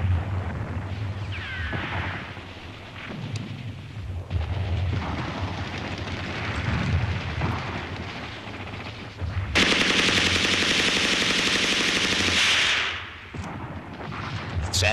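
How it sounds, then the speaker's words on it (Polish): Street battle gunfire from a 1969 Polish war film, with sustained machine-gun bursts and shots crackling through a busy scene, a loud dense stretch of rapid firing midway, and voices shouting between volleys. "Осторожно, товарищи. Улица под обстрелом."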